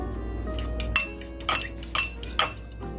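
Eggs are whisked in a bowl with a utensil, producing a few distinct clinks and taps against the bowl over a low steady hum, with no talking.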